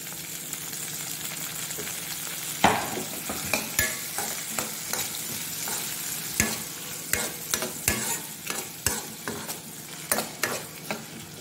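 Onions and tomatoes fry in a pan with a steady sizzle, broken by a long series of sharp spoon scrapes and knocks against the metal, close and unaccompanied by speech.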